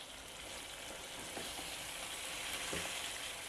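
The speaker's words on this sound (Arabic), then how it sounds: "ادوا الجمبري تشويحه مع البصل مع البهارات كده" Shrimp sauté in a hot pan with onion and spices, giving a steady, close sizzle and frying hiss that runs throughout, with a few soft stirring clicks and no talk.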